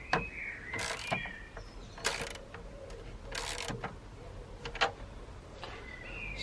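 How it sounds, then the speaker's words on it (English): A ratchet tightens the battery clamp on a Nissan GT-R in several short clicking bursts, close and fairly quiet, with brief pauses between turns. "So we've now tightened that battery."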